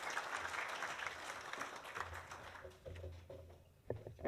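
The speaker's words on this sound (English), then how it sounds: "let's give Richard a big round of applause for his contribution to the hub." Audience at a Rotary Club meeting applauding, steady dense clapping from a roomful of people that thins out toward the end, with a few louder claps at the close.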